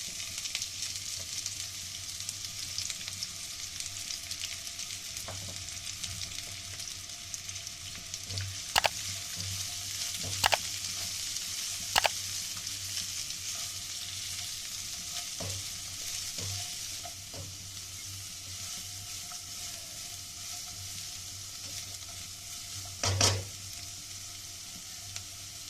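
Onions stirred through hot oil in a pan for green chilli curry, a steady bright sizzle running throughout, with occasional sharp scrapes and clinks of the spoon against the pan and no talking.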